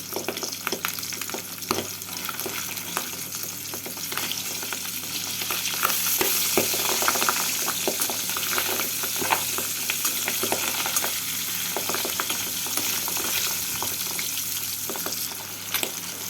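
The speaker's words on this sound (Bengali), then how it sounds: "এপিট পিট করে লাল করে ভেজে নিচ্ছি" Pabda fish sizzling steadily in hot oil, with constant crackling and popping for the whole stretch and no voices.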